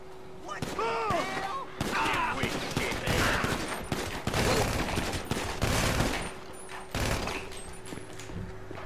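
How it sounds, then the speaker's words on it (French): Rapid gunfire from the video game GTA 5, dense bursts of shots crackling throughout at a steady loud level, with someone talking over the game sounds. "Pourquoi on me tire dessus?"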